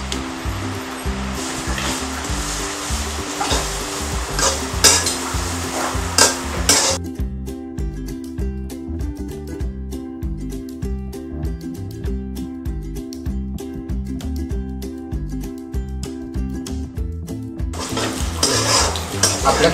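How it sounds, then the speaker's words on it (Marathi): Grated fresh coconut frying in ghee while being stirred, a steady close sizzle with scraping spoon strokes against the pan, continuing without talk. "ते मी यात तुपात घालतो आणि थोडासा रंग बदलेपर्यंत आपण ह्याला परतून घेणार आहोत"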